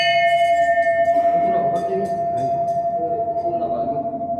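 A bell rung at the entrance of a Jain Shwetambar temple, its bright sustained tone ringing steadily throughout, with faint background bustle and murmur around it.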